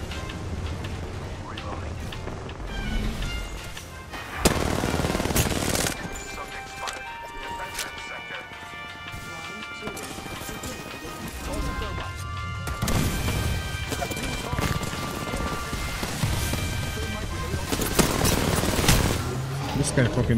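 Video game gunfire comes in sharp, loud, close bursts and volleys scattered through a busy combat soundscape, with a player talking over the shots.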